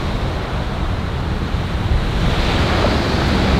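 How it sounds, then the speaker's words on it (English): Strong outdoor wind roars and buffets the microphone in a continuous, loud, broadband rush with no pauses and no voices. "it's really windy"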